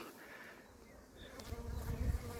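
Bees buzzing at a wooden beehive left unopened since autumn, a low steady drone that swells a little louder toward the end, with no voices.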